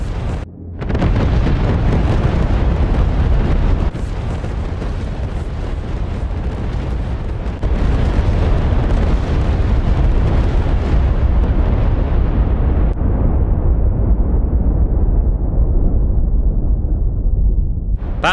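Massive MOAB bomb dropped from a C-130 detonates in a huge, sustained rumbling roar that stays loud and dense for many seconds before slowly thinning out, with no voices.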